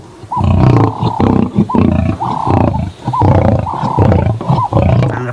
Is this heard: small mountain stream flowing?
no